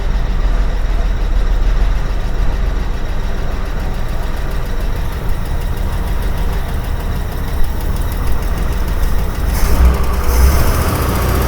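A 1961 Ford van's 230 engine, run again after sitting 30 years, idling loud and close with a steady rough rumble and a slight knock, briefly revving near the end.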